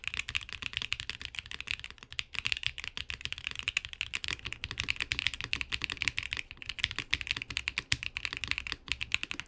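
Typing on a Wind Studios Sin 65 mechanical keyboard, rapid continuous clacky keystrokes at close range with no voice over them.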